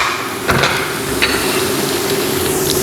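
Tomato paste for Ankara tava fries in a pan with a steady, dense sizzle, broken by a couple of sharp knocks from a utensil against the pan.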